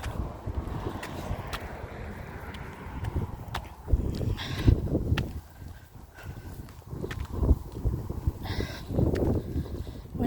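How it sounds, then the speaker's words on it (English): Wind gusts buffet the microphone on a shore road at Invergordon with the tide out, a low rumbling roar that swells in uneven bursts, joined by faint scuffs and knocks. "Windy."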